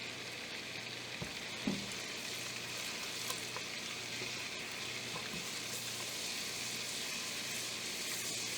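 Butter cooks in a pot for Rice Krispie treats, a steady gentle frying hiss with scattered small clicks and scrapes from constant stirring against the bottom. No talking.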